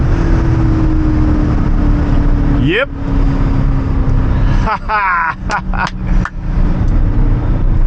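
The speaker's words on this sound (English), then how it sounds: "Clutch is holding all of that 400 horsepower. Man, this thing grips, gets up and goes." A 400-horsepower BMW M5 accelerates hard in second gear, its engine roaring loudly and rising in pitch, then cutting into quick shifts, heard from inside the car with someone talking and exclaiming over it.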